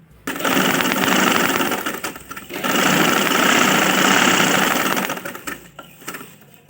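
An electric sewing machine stitches the V-shaped neckline of a cotton kurti in two loud, close bursts of rapid whirring, with a short pause between them and quiet at the start and end.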